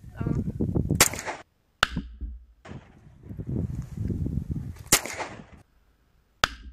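An air rifle fired at a homemade clay and gummy bear target gives sharp, isolated cracks. Four shots are spaced across the span, with talk filling the gaps between them.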